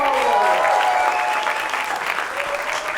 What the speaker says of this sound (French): Veuillez faire un tonnerre d'applaudissements